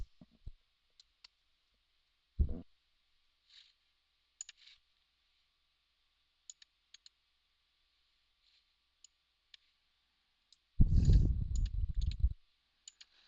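Mouse clicks and keyboard typing on a computer while setting chart axis values: sparse, quiet single clicks scattered throughout, one short thump near the start, and a louder dense burst of rapid keystrokes toward the end, with no talking.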